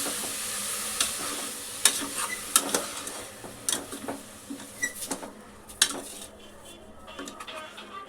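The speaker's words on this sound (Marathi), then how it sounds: "आपल्याला बस 2 मिनिटं परतून घ्यायचं आहे." Carrot halwa being sautéed in a pan, with frequent clinks and scrapes of a spoon against metal over a soft sizzle, close and moderately loud, the stirring easing off near the end.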